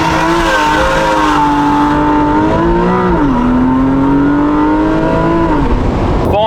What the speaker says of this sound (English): Launch control out of the toll booth